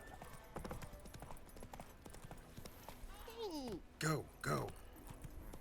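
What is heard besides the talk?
horse hooves galloping in video game The Witcher 3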